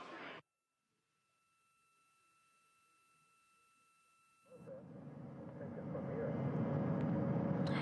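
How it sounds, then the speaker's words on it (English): Navy helicopters circle the Orion capsule at sea near the USS John P. Murtha. Near-silence gives way to a broad, steady rotor-and-wind roar that swells and holds loud through the second half. "we are seeing the helicopters circling Orion"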